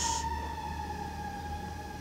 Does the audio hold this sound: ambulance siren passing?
yes